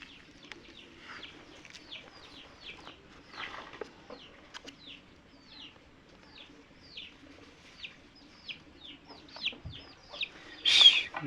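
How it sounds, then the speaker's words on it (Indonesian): Chickens clucking in front of a doorway, a steady run of short repeated clucks and calls, fairly close and moderately loud, with a louder squawk near the end. "di depan pintu ini banyak ayam."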